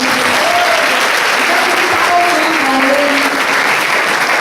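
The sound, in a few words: church congregation applauding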